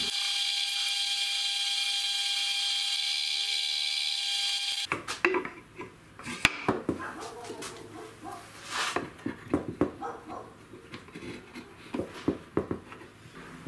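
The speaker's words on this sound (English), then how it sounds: "I'll be rotating the workpiece while drilling through so to counter any inaccuracy in the drill press." A drill press bores through a wooden workpiece for a Pantorouter XL base as it is rotated. A steady tone gives way to irregular grinding and cutting bursts with knocks and clatter.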